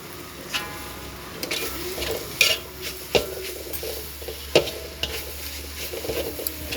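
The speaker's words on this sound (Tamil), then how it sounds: "இதில் நம்ம கொஞ்சோண்டு தேங்காய் பூ தூவி கிண்டி எடுக்க வேண்டியது" Cooked drumstick leaves tossed with grated coconut in a pan, soft sizzling under a few sharp scrapes and taps of a spoon against metal, close and fairly quiet.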